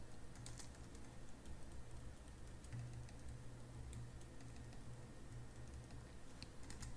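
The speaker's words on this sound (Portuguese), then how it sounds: "Vamos digitar essa informação." Fingers type data on a computer keyboard, a steady run of soft, quick key taps that continues at low level with no voices.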